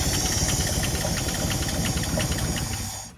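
A 1958 Chevy Delray engine runs loud and steady with a rough, hissy rumble, then dies away in its final moments as it stalls.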